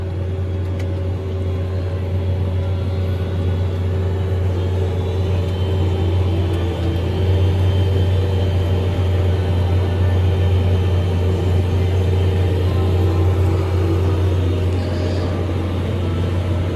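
A farm tractor in four-wheel drive crosses a field while planting soybeans into a rolled wheat cover crop, its engine holding a steady, loud, low droning rumble heard from the cab for the whole stretch, with no talking.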